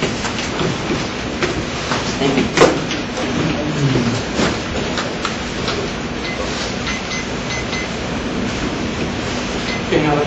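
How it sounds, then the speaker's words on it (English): A train rolls past up close, a continuous rumbling clatter of wheels on track with occasional sharp clanks. "the first sound recording I'd like to play for you is a recording of a train unit"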